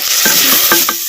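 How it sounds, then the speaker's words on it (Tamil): Steady scraping and stirring of onions and tomatoes in a hot pan, with frying crackle and sizzle throughout, close and fairly loud. "சேர்த்த தக்காளி பழத்தை அப்படியே நல்லா கிண்டு நல்லா கிண்டுறோம்."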